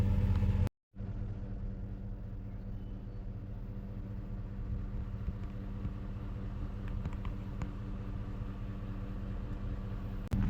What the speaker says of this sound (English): I just left my van running because I'm just getting out real quick